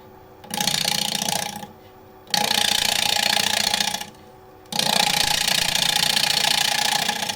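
A wood lathe turns the rim of a wooden bowl with a newly sharpened asymmetric-grind gouge, giving three sustained bursts of hissing, scraping cut noise over a steady motor hum, separated by short pauses.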